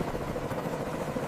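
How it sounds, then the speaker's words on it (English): A helicopter sound effect gives a steady, close rotor and engine rumble with an even throb throughout, no speech. "helicopters"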